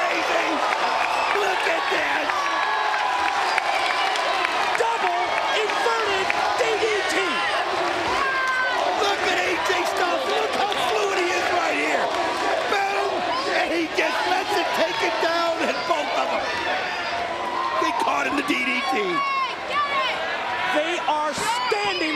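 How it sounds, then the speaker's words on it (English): A professional wrestling arena crowd roars and cheers, a dense continuous wall of applause and shouting that stays loud throughout, with a commentator talking over it. "The crowd goes crazy."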